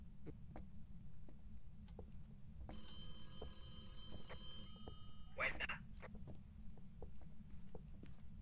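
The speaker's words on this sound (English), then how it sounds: "the phone rang in this room, I think" A telephone ringing inside a room in the horror game Phasmophobia, a sustained electronic ring lasting about two seconds over a low ambient hum, followed by a brief sharper noise.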